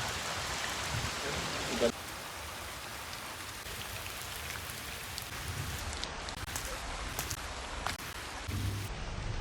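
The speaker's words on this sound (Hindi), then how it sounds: "हमारे गांव में बहुत ज़्यादा बारिश होते हुआ है।" Steady rain pours down, a dense continuous hiss with scattered drops and a brief louder patter near the start.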